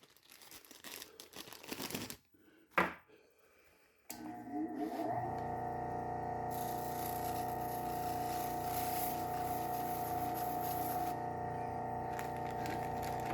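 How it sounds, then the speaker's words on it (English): Buck bench knife sharpener running at slow speed with a leather buffing wheel and white compound, a few seconds of crinkly handling noise, a short gap, then a steady loud motor hum that holds evenly to the end. "a buck tool, slow speed. I've got the leather wheel on here"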